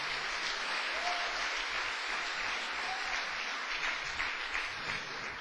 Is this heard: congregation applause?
yes